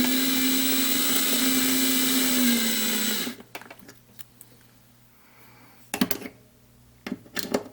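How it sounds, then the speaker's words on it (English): A power drill driving a screw into a clock whines steadily at high speed for about three seconds, then stops; a few sharp knocks and clicks follow nearby. "I'm going to use the electric drill to get it started"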